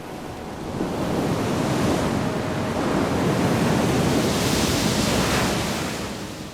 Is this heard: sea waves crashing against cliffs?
yes